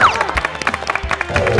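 A small group applauds and cheers a pizza eating contest winner, with quick, close clapping bursts and excited voices mixed in over the short moment.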